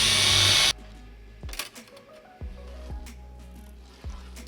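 A power drill bores holes in a metal fastback cage for an Axial Wraith 1.9 RC crawler. A loud burst of workshop noise comes first, then several short close drill bursts separated by quieter gaps.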